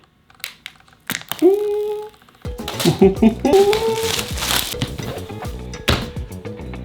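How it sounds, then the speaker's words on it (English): Packaging of a 16-inch M1 Max MacBook Pro crinkles and rustles at close range during unboxing, with scattered sharp clicks and crackles, a few bursts of plastic crinkle and soft tonal squeaks, separated by short quiet gaps. "But first, let's do some unboxing."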